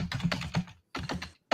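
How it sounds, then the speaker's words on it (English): Rapid typing on a computer keyboard, close and clear, comes in fast clusters of key clicks with a short pause between two bursts and no talking. "He's typing like a madman."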